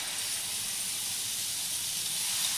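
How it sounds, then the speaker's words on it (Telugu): Dosa batter poured onto a hot pan with the stove on low, giving a steady, even sizzling hiss that holds without a break for a few seconds, fairly soft and alone. "స్టవ్ని సిమ్లో పెట్టుకొని పిండి వేసుకోండి"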